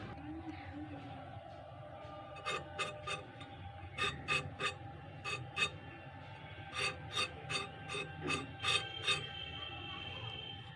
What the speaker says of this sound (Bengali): এইভাবে আমি পটলটা খোসাটা আমি আবারও ছাড়িয়ে নেব